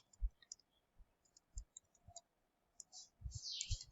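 Computer keyboard typing, soft scattered key clicks and taps in short irregular bursts at close range, faint overall, with a quicker cluster of keystrokes near the end and no talking.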